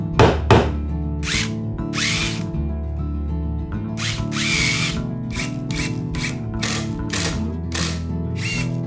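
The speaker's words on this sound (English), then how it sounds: "After it's installed, I'll secure it with 4 screws from both sides." A power drill drives screws into a wooden decorative strip on a two-tiered tokonoma alcove, with repeated short whirring bursts and thunks, close and loud, and no talking.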